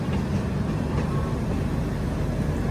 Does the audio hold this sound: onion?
no